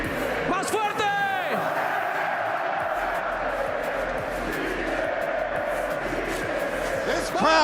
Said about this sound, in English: This crowd is having one hell of a time here, and this is just day 1.